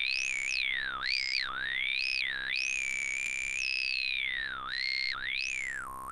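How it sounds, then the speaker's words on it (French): Square wave talking bass from an analog synth in Ableton Live 11, pitched low with a filter sweeping up and down so it almost forms vowel-like syllables, a continuous solo tone without speech. "Pour mieux comprendre on va écouter avec la square wave."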